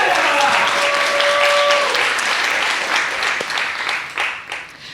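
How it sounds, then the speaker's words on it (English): Steady applause from an audience fills the room, then tapers off toward the end. "Let's give another round of applause for Perla."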